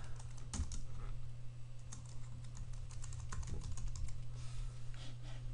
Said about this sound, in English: now let's just type in our email address here.